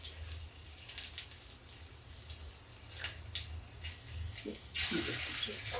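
Tap water runs into a sink as hands are washed in a home kitchen while a corn snack is being made, with splashing and faint clinks, the flow growing louder and fuller near the end.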